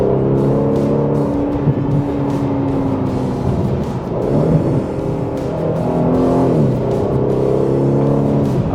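An Aston Martin DB11 with a twin-turbo V8 is driven hard on a country road, its engine revving up and down through the gears, rising and falling with quick throttle blips between shifts, loud and close.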